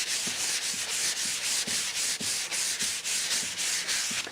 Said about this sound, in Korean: 이 정도만 사포를 하시면 되는데 이걸 억지로 사포질 하시면은 톱밥가루가 계속 나옵니다